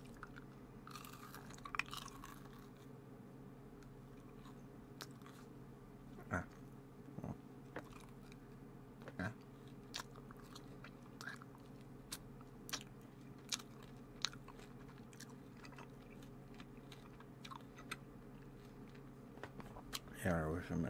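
Close, soft crunches and bites of a Tootsie Pop candy being chewed in a quiet room at night, scattered sharp cracks over a low steady hum, whispered talk nearby.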